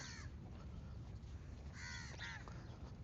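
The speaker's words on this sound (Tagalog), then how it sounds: "Ang mga ibon." Birds, probably crows, give a few faint caws outdoors in Saudi Arabia during Eid, set against a steady low background rumble.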